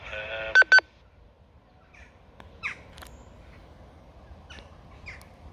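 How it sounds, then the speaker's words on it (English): A Retevis RT23 handheld radio gives a short talk-out timer bleep, a pair of clear electronic tones at the start, followed by near silence with a few faint distant chirps. "I think we got a talk out timer there with a little bleep"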